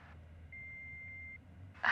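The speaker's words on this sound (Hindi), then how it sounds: "प्लीज अपना मैसेज छोड़िए इस बीप के बाद" A single steady electronic tone lasts just under a second on an answering machine, faint and clean, followed by a brief noise at the end.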